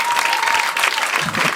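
Applause from a comedy show audience, a dense, steady wash of clapping from a packed room with a brief whistle or cheer riding on top throughout.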